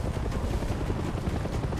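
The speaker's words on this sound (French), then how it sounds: "il y a deux hélicoptères" Steady low rotor thumping and droning engine noise from two helicopters in Far Cry 6, continuous and fairly loud, hovering nearby, with no voices.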